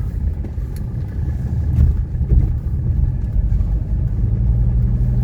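A 1985 Mercedes 300D diesel with only 18,000 miles cruises with a steady low engine rumble and road noise throughout, heard from inside the cabin; the blinker's ticking is not clearly separable.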